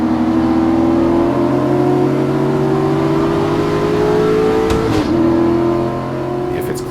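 A grassroots race car's engine drones loud and close at a steady high pitch, rising slowly under sustained throttle, with a brief shift-like break near the end as the tone drops.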